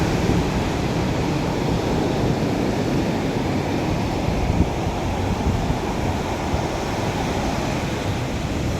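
Ocean waves wash in at a seaside hotel beach, a broad, constant roar of surf mixed with gusting wind buffeting the microphone, with no speech.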